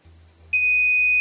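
An Arduino flood-monitor buzzer switches on partway through when a hand nears its sensor. A sharp, loud, continuous electronic tone then holds steady to the end, following a quiet low hum.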